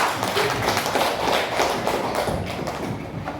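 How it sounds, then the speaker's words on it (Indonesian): A school class claps together in a classroom, dense steady applause lasting throughout and easing slightly toward the end, close and fairly loud. "Tepuk tangan untuk kita ini."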